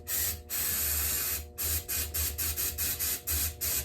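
Lubricant sprays from an aerosol can into the throat of a car engine, coming out in hissing bursts: one long spray, then a run of short, quick rhythmic spurts close up, with no voices.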